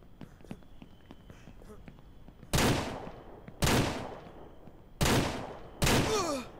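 Gunfire in the Ranch Simulator video game: four loud, sharp shots spaced roughly a second apart, each with a decaying tail, after quieter footsteps and light clicks, with a voice speaking.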